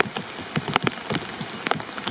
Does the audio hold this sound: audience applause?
no